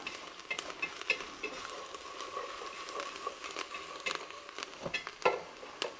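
Clam chowder paste sizzling and cooking in a pot, a steady close crackle with scattered pops and stirring scrapes, moderately loud and without speech.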